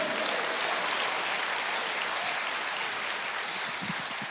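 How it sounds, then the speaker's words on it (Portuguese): Church congregation applauding throughout, a steady dense wash of clapping at even loudness with a few faint voices beneath. "Aplauda o Senhor, diga: eu creio."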